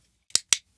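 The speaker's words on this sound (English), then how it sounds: "my dog clicker. That just gives me a visible spike" Two sharp, crisp clicks of a dog training clicker about a fifth of a second apart, close and clear against near silence.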